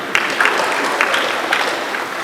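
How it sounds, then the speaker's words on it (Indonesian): An audience applauds at an Indonesian political address, dense clapping that stays steady and fairly loud throughout. "Tepuk tangan."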